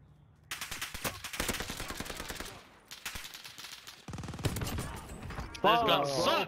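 Assault rifle gunfire in the Warzone Pacific video game, rapid automatic bursts in close succession mixed with game effects and a speaking voice.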